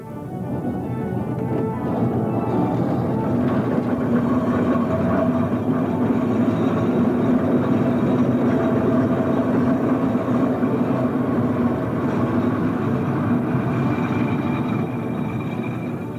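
A showman's steam traction engine at work at a steam fair, giving a steady, loud, dense mechanical rumble with a low hum that runs unbroken throughout, no talk over it.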